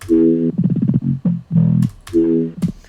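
A synthesizer patch run through hyper width and distortion effects, heard loud and close as short gritty buzzing tones with a few longer held notes, broken by brief gaps.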